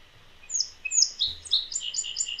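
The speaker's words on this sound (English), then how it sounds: "Listen, song sparrows." Song sparrows singing in open, wet, sunny fields on a warm March day, several bright trilling phrases repeating close by over a quiet background.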